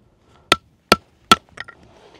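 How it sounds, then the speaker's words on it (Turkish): Firewood being split into small kindling pieces with a hatchet outdoors, three sharp, evenly spaced close chops followed by a few lighter knocks of wood. "ateşi yakarken ince odun parçalarımız olsun diye böyle bizim yanımızda getirdiğimiz parçaları daha kolay yakmak için küçültüyoruz"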